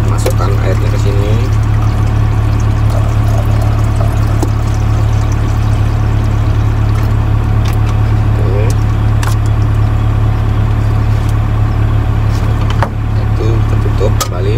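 Plain mineral water is poured into the tank of a Microho portable air cooler, a steady close pour running under a loud low hum, with a voice speaking over it.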